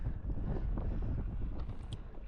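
Steady wind buffeting the microphone beside a Baltic Sea bay, a constant low rumbling roar with gusty fluctuations throughout, loud and close, with no voices.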